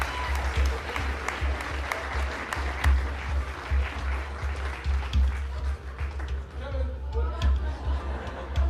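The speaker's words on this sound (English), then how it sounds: "Keep the clapping going for Grant." Sustained clapping from a stage audience at a football awards show for lineman Grant McKeever, a dense crowd of hands steady over the whole span with some chatter mixed in.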